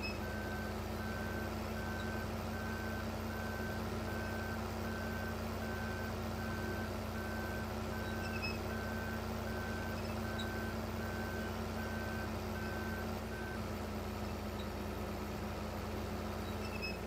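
A truck's reversing alarm in Farming Simulator 15 beeps in a steady, evenly spaced series of about twenty tones over a low engine hum, faint and alone.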